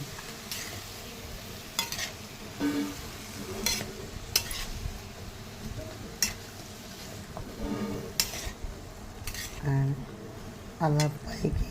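A pot of mushroom biryani with potatoes and tomatoes being stirred: repeated scraping and clinking strokes of a spoon against the pot with a soft sizzle beneath, close by, interrupted by a few louder knocks, no voices.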